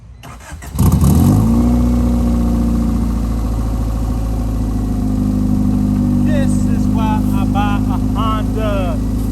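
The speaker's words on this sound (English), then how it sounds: "we're gonna see if we can get the car started" A Honda CRX Si engine, sitting unused for two years, cranks briefly and catches on the first try, then settles into a loud, steady idle close by while a voice talks over it near the end.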